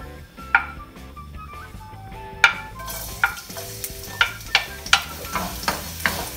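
Garlic frying in hot oil in a pan for Filipino chicken broccoli: a steady sizzle with repeated sharp clinks of a utensil stirring against the pan, close and without talk.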